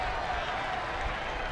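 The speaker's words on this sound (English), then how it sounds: "Crowd comes to life." Crowd noise at a Phillies versus Nationals baseball game, a broad, steady wash of stadium cheering and murmur with no clear peaks, heard briefly at moderate level.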